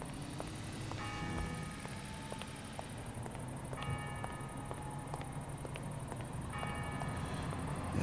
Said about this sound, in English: it's nighttime, and I hear the church bells ringing